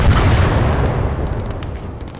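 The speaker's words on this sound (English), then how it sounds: "Nice explosion." Explosion and gunfire in the Blood Red Snow war game: a loud booming blast that rumbles and decays over about two seconds, with faint crackling shots trailing behind.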